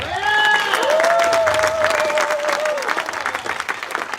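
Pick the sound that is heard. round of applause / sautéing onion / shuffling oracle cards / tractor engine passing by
round of applause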